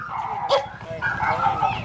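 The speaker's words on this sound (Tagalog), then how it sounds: "May aso." A dog barks and yips briefly amid people talking and background noise.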